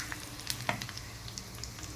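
Hot oil tempering poured into sambar sizzles and crackles steadily, with brief sharp pops and a light stirring clatter; no voices.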